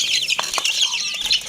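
Chickens and chicks feed on leftover pulao rice, with rapid high-pitched peeping and chirping from the chicks and soft clucks mixed with brief scuffles, all close by and continuous, with no talking.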